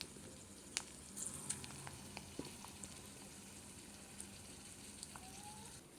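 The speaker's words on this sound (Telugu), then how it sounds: "పోపు వేగిపోయింది. ఆఖరణ కొద్దిగా ఇంగువ వేసి దింపేసుకుందాం." Spices temper in hot oil for mango pulihora, a soft, steady sizzle with scattered crackling pops and a few light clinks, quiet and without talking.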